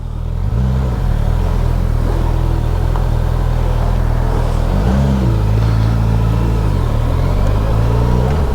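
Suzuki GSX-S 1000 GX motorcycle engine droning loud and steady while riding, with rising and falling pitch as the rider shifts through gears.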